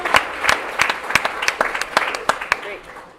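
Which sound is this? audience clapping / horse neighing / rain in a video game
audience clapping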